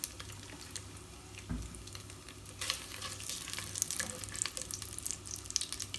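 Melted lamb tail fat and a couple of spoons of oil sizzle quietly in a pan, a soft steady crackle with a few louder pops and clinks, and no voices.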